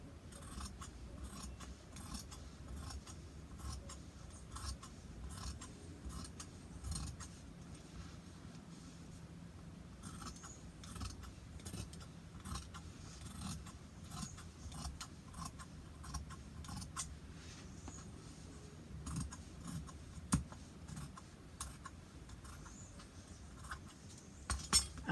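Scissors cut fabric for a homemade face mask with a long run of quiet, close snipping and crisp blade clicks at an uneven pace, with faint handling noises between cuts.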